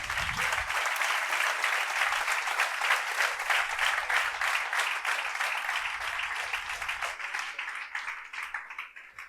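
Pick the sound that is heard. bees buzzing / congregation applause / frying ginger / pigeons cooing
congregation applause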